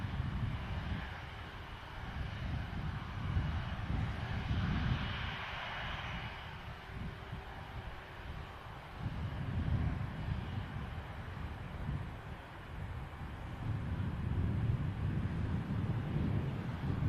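A Kuwait Airways Airbus A330neo airliner touches down at Manchester Airport, its engine roar and rumble steady and fairly loud throughout, with wind buffeting the microphone.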